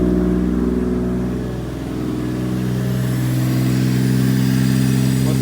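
A Mazda Chaser engine fitted with a J-pipe exhaust runs at a steady idle close by, a loud continuous rumble with a slight dip in level before settling into an even, throbbing drone.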